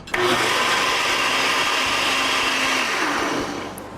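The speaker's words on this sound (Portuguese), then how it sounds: "Os componentes da massa do pudim de queijo vão para o liquidificador." A kitchen blender whirs steadily at close range, mixing cheese pudding batter for about four seconds before winding down slightly at the end, with no talking over it.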